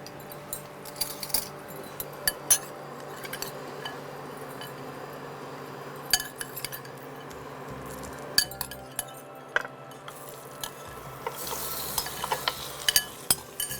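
Salt-boiled mutton rib pieces with fat and bone go into a pan for a malaidar mutton curry, giving a soft sizzle broken by clinks and scrapes of a spoon stirring against metal, close and without speech.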